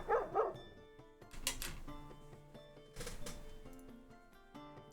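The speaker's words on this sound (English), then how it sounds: "Dogs even?" Dogs barking in an indie video game, several short, sharp barks at irregular intervals over a soft background of sustained musical tones.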